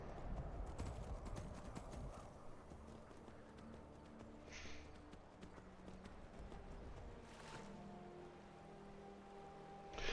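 Horse hooves gallop in a steady, continuous clip-clop rhythm through the Skyrim video game, close and fairly loud, with a brief whinny-like burst midway and no talk over it.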